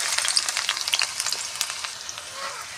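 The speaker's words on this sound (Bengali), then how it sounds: "তেল গরম হয়ে গেছে, আমি ওর মধ্যে দিয়ে দিচ্ছি কুচনো পেঁয়াজ" Chopped onion dropped into hot oil for a potato and egg fry, giving a loud, bright crackling sizzle up close that eases into a steadier, softer hiss, with no voices.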